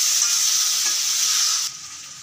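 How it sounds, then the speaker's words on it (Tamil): Chicken stir-fried dry in masala in a pan gives a loud, steady close sizzle that drops off sharply near the end, with no talk over it. "நல்லா ட்ரையாக நம்ம வறுத்து எடுத்துடலாம்"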